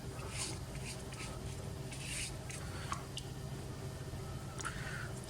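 A wet brush heavy with water lays yellow ochre watercolor paint smoothly onto paper, giving soft, close, intermittent swishes and faint squishy strokes at low volume.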